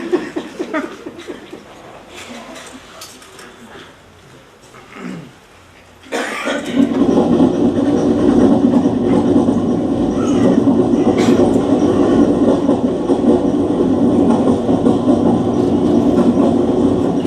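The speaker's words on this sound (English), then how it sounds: "if anyone of you is getting disturbed by the noise of the train" A train passes close by at Benaras Junction, a loud steady rumble with rattling wagons that surges in after quieter moments of coughs, laughter and scattered voices.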